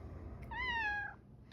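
A pet cat gives a single clear, drawn-out meow, rising slightly then falling, close by in a quiet room.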